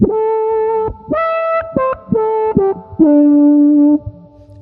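A Pigtronix Resotron guitar effects pedal oscillates, sounding a series of sustained, buzzy synth-like tones that jump between pitches in short phrases.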